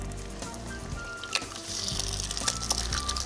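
Food sizzles and spits in a hot pan in a home kitchen during a cooking show, a steady frying hiss with small crackles and clinks, while people chat nearby over it.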